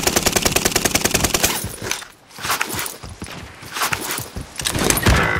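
Bursts of rapid automatic gunfire in Call of Duty: Modern Warfare, a fast string of close shots at the start, then scattered further volleys and shots among footsteps and ambient battle noise.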